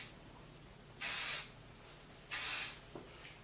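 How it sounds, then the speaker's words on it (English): Two short, sharp bursts of freezing hairspray hiss from a can onto a drag wig, roughly a second apart, close up and crisp against a quiet room. "put my freezing hairspray in"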